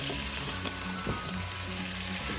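Pork belly browning in a frying pan makes a steady, close, even sizzle with faint crackles throughout.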